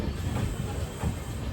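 A passenger train pulls into Coimbatore Junction, a steady close rumble of rolling wheels and carriages with faint clacking throughout and no voices.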